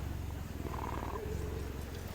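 A cat purrs steadily while being petted in the video game Dragon Age: The Veilguard, a soft continuous rumble with faint tonal game sounds drifting above it.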